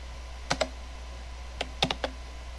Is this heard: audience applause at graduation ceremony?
no